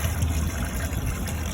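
Water is poured into a newly installed shower drain. It makes a continuous, close, hissing rush of liquid for the whole stretch, with no talking.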